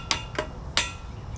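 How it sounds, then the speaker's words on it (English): Three sharp taps from a small tapping hammer knocking a metal gate frame into alignment, spaced irregularly and fairly close, each a brief bright click with a short ring, over a low background hum. "then I use a little tapping hammer"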